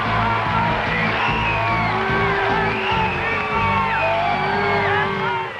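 A loud live audience at a Miss Universe pageant cheers for Miss Puerto Rico, Diana Torres, with a dense, continuous roar of whoops, shouts and high yells that stays steady throughout.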